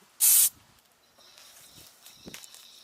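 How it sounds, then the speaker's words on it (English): A single short, loud hiss of silicone spray close by, coating a car battery tray, followed by quiet handling noises and faint rustling. "Cover the tray completely with silicone spray and let it set."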